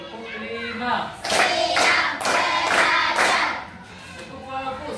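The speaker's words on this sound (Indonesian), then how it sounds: "Tepuk 1, tepuk 2, tepuk 3," A classroom of children claps in unison to a teacher's counted routine, sharp rhythmic bursts of hands arriving in short groups, with voices of the class and teacher mixed in around the claps.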